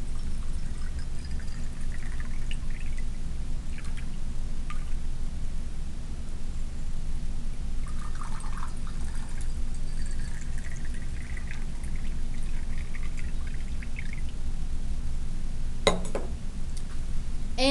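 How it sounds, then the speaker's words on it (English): Water is poured into laboratory beakers, about 100 millilitres each, as a steady, continuous splashing pour that lasts throughout, with a few light glassy clinks near the end and no talking. "I'm going to add 100 milliliters of water to each of our beakers"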